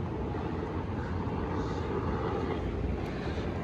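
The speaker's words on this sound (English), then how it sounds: "Helicopter." A helicopter passes overhead near a hotel and theme park, its engine a steady, dense broadband roar that stays constant throughout.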